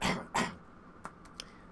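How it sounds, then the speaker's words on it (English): A single person coughs twice in quick succession, close and fairly loud, followed by a few faint short clicks in an otherwise quiet room. "Oh my god, I'm gonna be coughing a lot."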